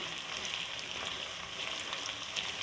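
Cumin and dry coriander roast in a hot pan for shami kebab masala. A continuous, fairly soft crackling sizzle runs without a pause, with small pops scattered through it.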